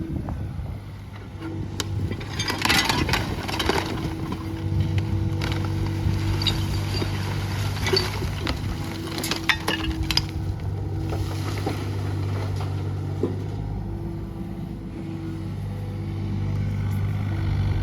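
A steady low engine drone with mechanical hum runs throughout from a Kobelco SK35SR-6 mini excavator clearing construction debris on a city site, joined by intermittent clanks and scraping.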